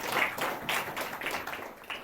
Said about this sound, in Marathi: टाळ्या वाजवून देवाला धन्यवाद.